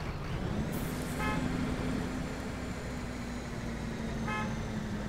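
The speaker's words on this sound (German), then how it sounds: "Wer hupt denn hier?" Truck horn honking on a road in the Euro Truck Simulator 2 driving game, two short toots a few seconds apart, set over a steady loud engine and traffic drone; no talking.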